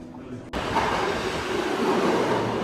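A New York subway train rolls past, a loud sustained rumble with rattling wheels that surges in abruptly after a short quieter moment and holds steady to the end.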